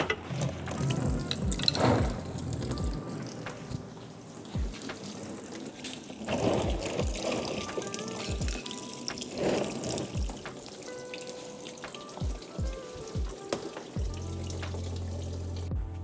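Coolant spilling from a disconnected hose on a BMW G20 M340i, a close splashing and trickling of liquid that surges and fades, mixed with clunks of the hose and hands working under the car.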